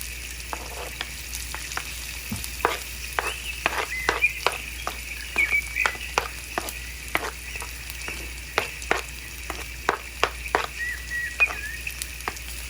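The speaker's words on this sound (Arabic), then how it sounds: "ونقلب البصل مع الفلفل كده" Onions and peppers being stirred as they fry in a pan on a stovetop: a steady hiss of sizzling runs throughout, broken by frequent sharp scraping and clicking stirring strokes, close and clear with no talk.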